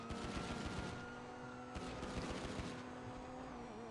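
Rapid automatic gunfire in GTA Online during a wallaby hunt, fast continuous bursts rattling on with a steady engine-like drone beneath, fairly loud and with no talking.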